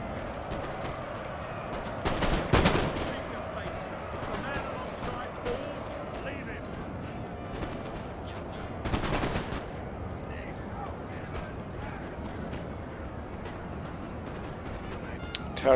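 Musket volleys crackle in a Napoleon: Total War online battle, two dense bursts of rattling gunfire over a steady backdrop of distant shooting, while someone talks throughout.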